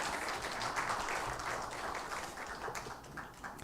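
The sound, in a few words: applause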